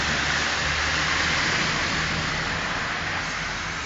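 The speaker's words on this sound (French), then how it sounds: "Il pleut toujours, actuellement." Heavy rain falls during a thunderstorm as a dense, steady, close hiss with no pauses, and no thunder is heard.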